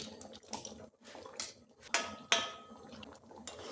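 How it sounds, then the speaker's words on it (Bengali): Fried paneer pieces dropped into a simmering chickpea curry in a pot, giving several sharp clinks and wet plops, with metal utensils scraping and clattering at close range. "এখন ভেজে রাখা পনিরগুলো এর মধ্যে দিয়ে দিচ্ছি।"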